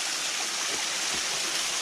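A waterfall pouring down rocks along an off-road trail, a steady, even hiss and rush of falling water that fills the whole moment without variation or voices.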